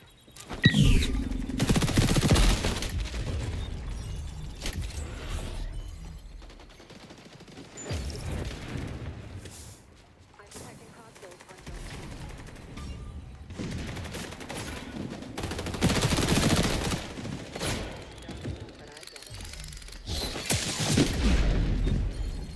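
Rapid automatic MP5A2 submachine gun bursts in the XDefiant shooter game come in several loud, sustained volleys separated by quieter gaps, with game mechanism sounds between them.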